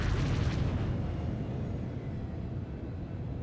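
A missile fired in the Star Wars The Old Republic Galactic Starfighter video game erupts in a deep, rumbling explosion, loudest at the start and then rolling away into a long, low roar with nobody speaking.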